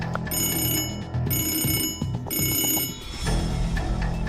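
A telephone bell rings in repeated bursts, three loud trills separated by short gaps, close and alone, while a police chief and a father wait beside the phone.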